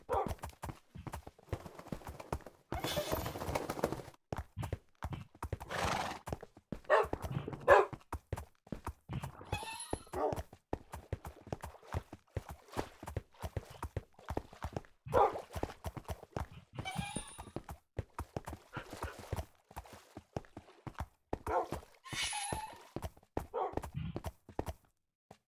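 Minecraft horse hooves clip-clop steadily in a walking rhythm alongside the footsteps of three dogs, with occasional neighs and brief dog sounds, faint throughout.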